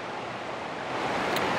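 A waterfall in the Yorkshire Dales pours in a steady, dense broadband rush, close and continuous, swelling slightly louder toward the end with no voices.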